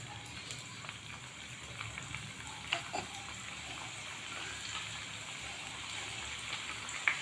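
Maggi masala balls fry in hot oil with a steady, soft sizzle and light crackle that runs throughout, a few small pops standing out; no one speaks.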